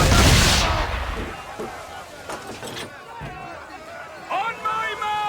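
Cannon fire rolls out in a ship battle in Assassin's Creed 3, starting with a loud heavy boom that decays into a rumbling tail, followed by scattered distant blasts while crew voices shout over the fight.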